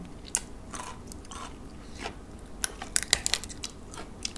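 Someone eats pickled crab roe with spicy sour dressing up close, giving wet sucking, crunching and chewing sounds in scattered bursts that grow busier toward the end, with no talk.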